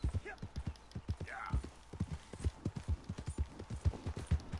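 Horse hooves clip-clop at an even walking rhythm in the video game Red Dead Redemption 2. The beats are close and distinct, with a short whinny early on.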